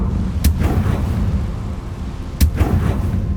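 In the video game Hogwarts Legacy, the Confringo spell lets off two sharp blasts about two seconds apart over a constant low rumble of game ambience.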